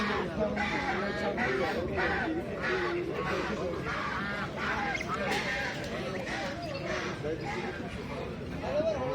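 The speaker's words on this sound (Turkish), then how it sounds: "Baba şu ördeklere bak ördeklere." Many ducks and other fowl keep up continuous quacking, honking and clucking at a crowded animal market, loud and close, while people talk throughout.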